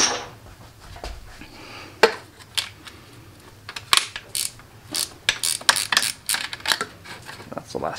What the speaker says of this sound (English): Then you can get to your last starter bolt up here.